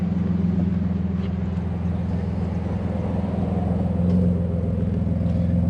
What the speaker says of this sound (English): There it is. Y'all hear that smooth idle?